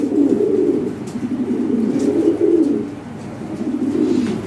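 A pair of toy beat pigeons coos steadily, their low throaty calls rolling in a continuous, rhythmic pulse close by, with no voices over them.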